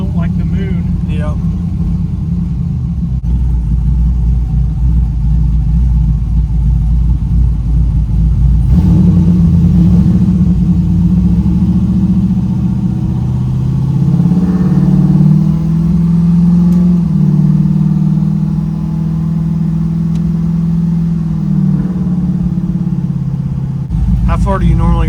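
A 1968 Chevelle with a cammed 5.3L V8 rumbles along on a rough road, its engine swelling as it revs up and then easing back, with people talking inside the car over the drone.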